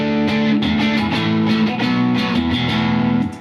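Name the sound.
electric guitar played on middle pickup with distortion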